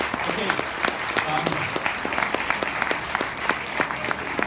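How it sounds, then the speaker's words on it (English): An audience applauds author Frances with a moderate, fairly even round of clapping, the individual claps distinct and rhythmic, lasting a few seconds. "a huge round of applause for Frances again"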